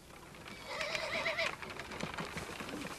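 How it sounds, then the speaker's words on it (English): A horse whinnies loudly and clearly in a storybook Cinderella scene as a horse-drawn carriage arrives, the neigh rising and falling over faint hoof clatter and background bustle. "That'll be the horse and driver."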